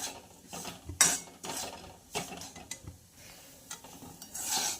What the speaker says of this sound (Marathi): एकसारखं याला हलवत राहायचं आहे, म्हणजे जेणेकरून हा रवा छान असा भाजला जाईल आणि अजिबात जळणार नाही